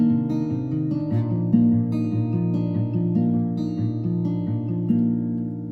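Fingerpicked acoustic guitar playing a pick-and-go pattern, a steady rolling arpeggio of ringing notes with repeating bass movement, close and clear with no voice.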